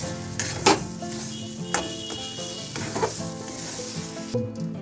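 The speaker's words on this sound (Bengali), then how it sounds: "ডালটাকে ভালো করে নেড়ে নেবো" A spatula stirs a thick dal filling for dhoka in a pan with turmeric, scraping and knocking against the metal at irregular intervals over a steady, close sizzle.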